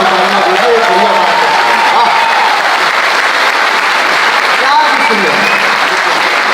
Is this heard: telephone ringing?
no